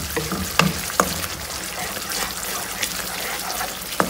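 Masala spices frying in oil in a pan before red beans go in, a soft steady sizzle with a few distinct clicks and taps of stirring, close by with no voices.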